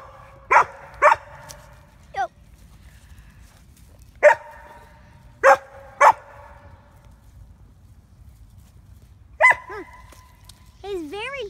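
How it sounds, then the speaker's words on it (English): Dogs barking outdoors, several sharp close barks in scattered bursts with a short pause between groups, plus a couple of higher whining yips, over quiet background. "And don't mind the dogs."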